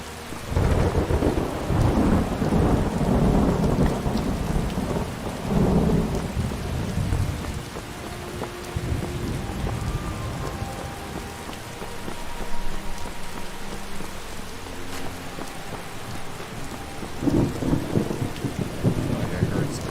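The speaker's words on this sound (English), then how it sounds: "That rain came quick, didn't it?" Heavy rain pours steadily in a Skyrim thunderstorm, with deep rolling thunder swelling and fading under the constant downpour.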